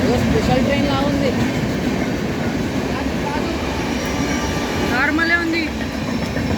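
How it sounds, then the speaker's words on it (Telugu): A special train rumbles past close by, a loud continuous roar of rolling wagons with rattling and squealing, and faint voices talk in the middle of it. "ఏదో స్పెషల్ ట్రైన్ లా ఉంది."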